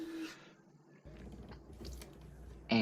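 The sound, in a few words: screwing an SSD into a PC motherboard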